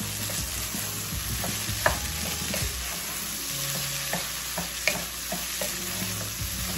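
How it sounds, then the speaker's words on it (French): Rice frying with shrimp, curry and onions in a pan: a constant, dense sizzle close up, with occasional sharp spatula knocks and scraping stirs. "je suis en train de frire notre riz"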